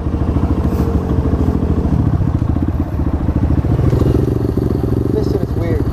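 An Apollo 125cc Chinese dirt bike's small single-cylinder engine putters loud and close, a steady rapid pulsing beat that holds throughout with a slight rise in pitch near the end.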